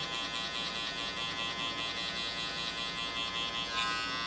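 Electric hair clippers buzz steadily at close range while trimming curly hair during a taper fade, a constant high whine with slight variations as the blade moves, no voices.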